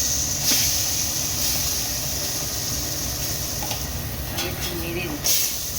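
Asafoetida and dried red chillies hitting hot oil with fennel seeds, a loud continuous hiss and crackle close up, with faint background sounds.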